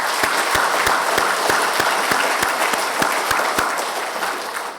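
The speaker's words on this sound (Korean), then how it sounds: "큰 박수로 환영하겠습니다." Congregation applause at a Sunday church service, steady dense clapping throughout, loud and close, with a few sharper claps standing out, gradually easing toward the end.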